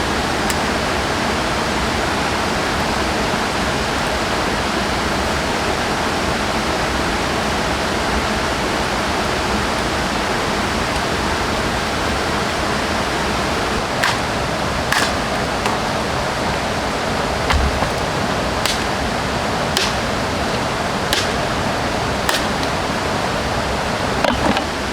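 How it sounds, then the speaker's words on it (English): Heavy rain pours in an outdoor survival camp, making a dense, unbroken roar for the whole stretch, with a few sharp ticks and knocks near the end and no talking. "It has started raining heavily."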